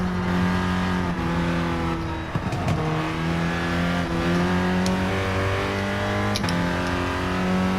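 A 2014 Honda Fit, a small front-wheel-drive hatchback, is driven hard with its engine revving loudly and steadily, the pitch rising and dropping through gear changes in a close, continuous drone.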